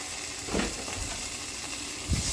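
Tomato paste hitting a hot pan for a beef ragu, a steady sizzle and frying hiss with a few louder spits and scrapes as it goes in.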